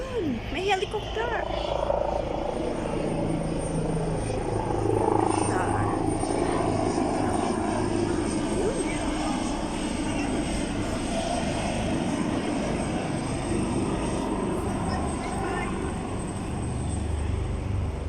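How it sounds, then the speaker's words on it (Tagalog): A helicopter passes overhead at a resort in Macau, its rotor and engine drone steady and moderately loud across the whole stretch, with people talking nearby and outdoor ambience. "may helicopter"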